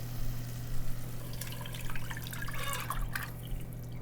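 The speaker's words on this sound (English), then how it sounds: "We're going to go in with our broth mixture now." Broth mixture with gelatin and beef base poured into a hot pan, a soft liquid splash and sizzle over a steady low hum, no speech.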